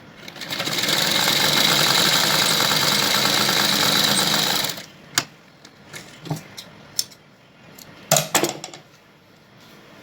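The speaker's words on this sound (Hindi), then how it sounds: "अब मैं आपको इसको सिलना बताती हूँ।" Sewing machine stitching a fabric strip for a baby bloomer, running steadily and loudly for about five seconds, then stopping, followed by scattered light handling clicks and taps.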